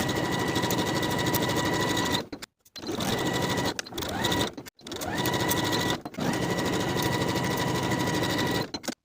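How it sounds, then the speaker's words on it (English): A sewing machine stitching the shoulder and side seams of a women's wool jacket, running in fast, even bursts of a few seconds separated by short stops, close and loud with no talk. "Sew each shoulder seam and each side seam at 3/8 of an inch and press the seams open."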